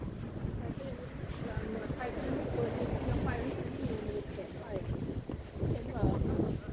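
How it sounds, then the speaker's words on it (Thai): Strong wind roars and gusts across a snowy outdoor setting in Sweden, rumbling low against the microphone throughout while people talk over it. "โอ้ยลมแรง"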